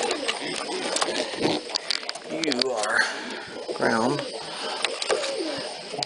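Pigeons cooing in a loft, several soft throaty coos close by amid shuffling and rustling, with someone talking gently over them.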